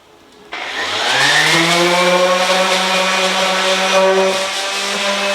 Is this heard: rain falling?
no